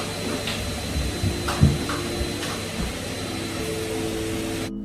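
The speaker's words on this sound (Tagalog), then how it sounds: "nakunan ng video ang vacuum cleaner na ito na animoy minamanipula ng masamang espiritu" A household vacuum cleaner runs in a house, caught on a CCTV camera: a steady whirring drone with a faint high whine and a few soft bumps, continuous until it cuts off abruptly near the end.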